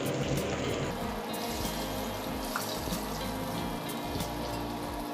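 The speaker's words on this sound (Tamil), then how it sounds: "எண்ணெய் நல்லா சூடான உடனே நம்ம மிக்ஸ் பண்ணி வச்சிருக்க சிக்கனை ஒவ்வொரு பீஸாக இதில்" Chicken 65 pieces dropped one by one into hot oil and frying, a steady dense crackling sizzle throughout with small pops, close and continuous.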